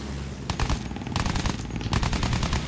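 Aircraft machine guns fire in Battlefield 1 in rapid sustained bursts, loud and continuous, with short gaps between volleys over a constant engine roar.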